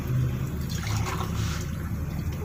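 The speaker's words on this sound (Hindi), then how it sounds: "और ये 5 गिलास पानी हमने डाल दिया इसके अंदर।" Water being poured steadily into a cooking pot for chicken biryani, a continuous close splashing trickle lasting the whole moment with no talk.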